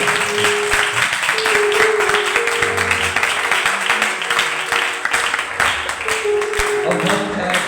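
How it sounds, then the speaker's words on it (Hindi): A church congregation at a healing meeting claps loudly and steadily, with a dense wash of applause that fills the hall throughout and a few voices calling out over it. "तो आए खुदा के लिए और अपने लिए जोरदार ताली बजाएं।"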